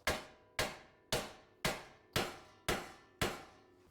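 Seven sharp hammer taps on a 19 mm bolt in a front wheel bearing hub on a 2009-2014 Acura TL, evenly spaced about half a second apart, each a bright metallic strike with a short ring, close up and alone.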